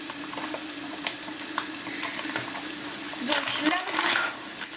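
Bacon lardons from two packets fry in a pan, giving a steady crackling sizzle that swells louder near the end, with scattered kitchen clatter and a faint steady hum beneath.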